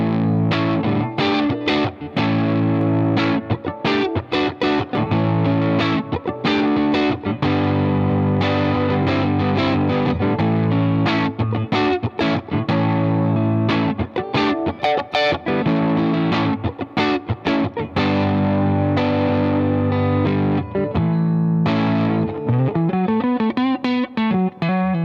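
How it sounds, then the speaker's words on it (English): A Castedosa Marianna Standard electric guitar through overdrive rings out with chords and single-note runs, sustained distorted tones and some quick muted strums, loud and close with no talk over it. "let's get into it with a little bit of overdrive"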